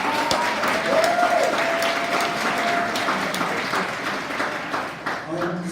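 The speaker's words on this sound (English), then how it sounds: "We hear another round of applause for Kylie," An indoor audience at a launch event applauds a performer named Kylie with sustained, dense clapping that fades slightly toward the end, while a voice speaks faintly underneath.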